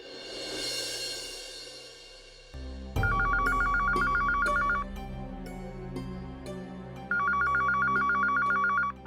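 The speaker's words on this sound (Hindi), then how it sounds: "फोन वाजतोय केव्हाचा, उचल ना." A telephone ringing in repeated trilling bursts, loud and steady, with a brief hum and rustle before the first ring.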